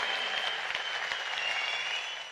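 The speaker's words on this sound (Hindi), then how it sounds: "बजानी है तो जोरदार तालियां बजाना उनके लेवल की" An audience claps loudly at a motivational talk, a dense, steady wash of applause with a few sharper individual claps standing out, fading slightly at the end.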